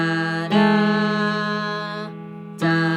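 A major third sounded on piano, two sustained notes ringing together with a fresh strike near the end, clear and close with no talking.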